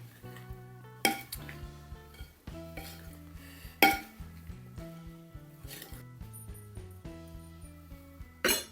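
Homemade Christmas mincemeat being mixed in a bowl, with a spoon knocking and scraping against the bowl in irregular clinks and thuds, a few sharp louder knocks standing out, close and alone without talk.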